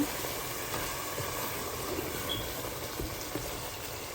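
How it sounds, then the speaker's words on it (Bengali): Green chilies and coriander leaves stirred in a hot oiled pan with eggplant, giving a steady, close sizzle and frying crackle with light scraping, no voices. "কয়েকটা কাঁচামরিচ দিয়ে দিব, আর দিব একটু ধনিয়া পাতা। একটু নেড়ে দিব।"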